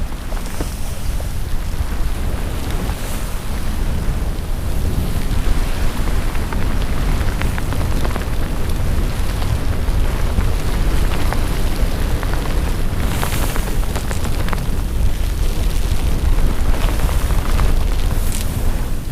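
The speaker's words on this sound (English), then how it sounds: "We've sailed into a short, stiff squall." Steady, roaring wind and driving rain in a short, stiff squall at sea aboard a sailboat in the Virgin Islands, a dense continuous wash of noise with occasional louder gusts and spray throughout.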